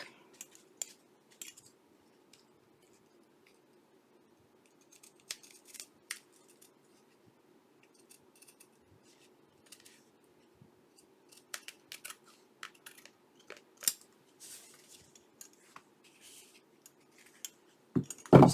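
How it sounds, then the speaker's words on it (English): Sparse, quiet snips of scissors trimming paper while making a journal, scattered short cuts separated by near silence, a few quick clusters toward the end. "Just let the scissors do just a little bit of tidying up here."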